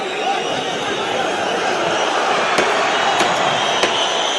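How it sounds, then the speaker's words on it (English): Crowd at a wrestling bout in Almaty, a continuous roar of spectators filling the arena with a few sharp slaps or thuds from the mat, steady and moderately loud, mixed with chatter. "listen to the crowd respond"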